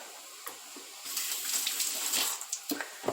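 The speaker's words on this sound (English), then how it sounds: "Let me wash my hands." Hands washed under a running kitchen tap, a soft splashing stream that swells after a quiet start, with a few small knocks and splashes near the end, close and alone.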